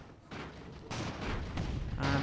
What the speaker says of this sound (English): we're going to get another explosion now